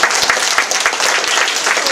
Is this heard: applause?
yes